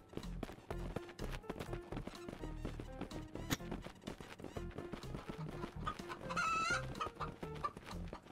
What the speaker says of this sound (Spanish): qué lindas las gallinas, por favor